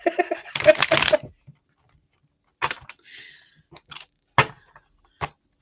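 Brisk riffling and shuffling of playing cards up front, then a few sparse taps and flicks of cards in a quiet room.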